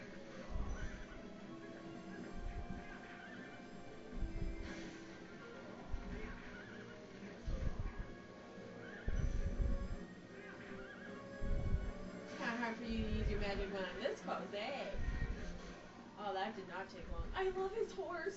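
In the video game Zelda: Twilight Princess, Ganon's horse neighs and whinnies repeatedly amid rhythmic clip-clop hoofbeats and game music, fairly faint, while people talk over it.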